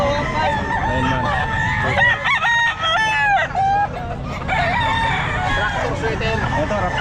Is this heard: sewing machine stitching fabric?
no